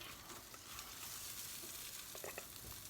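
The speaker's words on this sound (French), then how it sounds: "avec l'huile qui reste du steak et des chorizo, on va faire cuire nos petits pains hamburgers" Hamburger buns frying in oil left over from steak and chorizo, with a continuous close sizzle and a few small crackles and pops, no voices.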